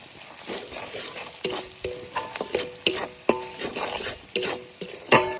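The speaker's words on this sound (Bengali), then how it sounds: "মশলা ভালো করে কষিয়ে নিয়েছি।" Spices sizzle and fry in a pan with onion, ginger and garlic paste, chili powder, turmeric and salt while a utensil stirs them in repeated scraping strokes, close and moderately loud, for a village-style prawn malai curry.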